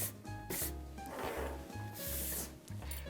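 A cloth rubs briskly back and forth along a leather belt to buff off excess conditioner, close soft scrubbing strokes in an uneven rhythm with no voices.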